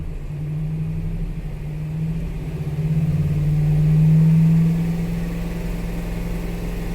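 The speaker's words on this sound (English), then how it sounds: "But now as I start to rev it up" A car engine, both banks running, rises from idle in a smooth rev to around 2,500 RPM, the steady hum swelling and holding near the middle before settling slightly, close and alone without talk.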